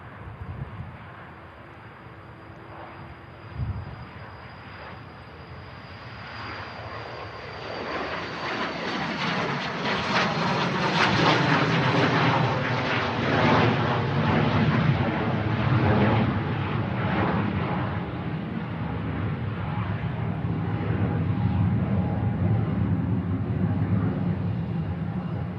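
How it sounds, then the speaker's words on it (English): A Silver Aviation Pilatus turboprop at Manchester Airport spools up and takes off, its engine roar building from a quiet idle to a loud, sustained drone with a steady tone, no voices present. "The Pilatus of Silver Aviation is the next aircraft to go."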